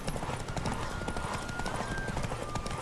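A horse gallops in The Witcher 3, its rapid clip-clop hoofbeats driving steadily under game sounds and a brief whinny, with a player talking over it.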